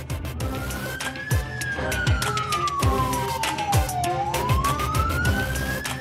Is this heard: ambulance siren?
yes